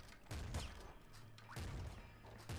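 Gunfire from the top-down shooter game Nuclear Throne rattles out in repeated loud bursts of sharp blasts and impacts, each burst fading briefly before the next.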